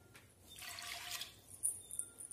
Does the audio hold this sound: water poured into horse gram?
yes